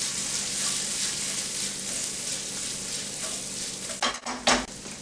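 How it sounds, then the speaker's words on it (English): Morel mushrooms sizzling in melted butter in a pan, a steady soft frying hiss, with a few louder clinks and scrapes of a utensil stirring near the end. "once the butter's melted, we're going to add the morels."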